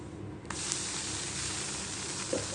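Adai dosa batter hits a hot pan with a sudden sizzle that swells into a steady frying hiss, soft and close, with a faint clink near the end.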